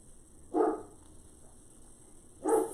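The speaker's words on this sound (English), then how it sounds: "If he keeps barking, I may have to go see what's up." A dog barks twice at a moderate distance, two separate barks about two seconds apart with quiet between them.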